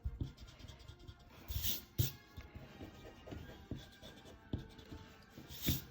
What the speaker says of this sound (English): So you want to erase.